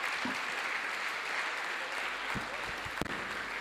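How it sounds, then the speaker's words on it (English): A lecture audience in a hall in Dar es Salaam, Tanzania applauds in a steady, dense wash of clapping that holds evenly throughout, with a few louder nearby claps standing out. "Another round of applause"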